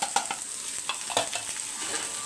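Spice powder being stirred into peeled, three-quarter-boiled potatoes for a Chettinad potato fry, heard as a run of soft, uneven scraping and clinking strokes close by with no talk.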